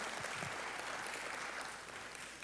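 Steady clapping from a church congregation, dense and continuous throughout, with no voices standing out.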